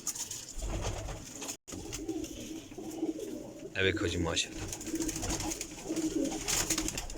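Pigeons coo softly and repeatedly nearby while someone talks over them.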